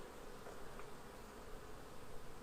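Bees swarm around a queen cage pushed into a comb, giving a steady, dense buzz that stays close and even all the way through, with no voices over it.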